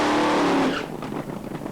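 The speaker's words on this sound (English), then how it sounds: "Gets her burnout" A nitro drag racing car roars loudly through a burnout at Hockenheim, the harsh engine and tyre noise fading slightly after a sustained blast.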